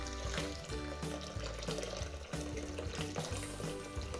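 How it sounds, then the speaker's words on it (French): Very hot water being poured to infuse tea for kombucha, making a continuous close splashing pour with a gurgling, bubbly texture throughout. "maintenant je rajoute de l'eau très chaude pour infuser mon thé"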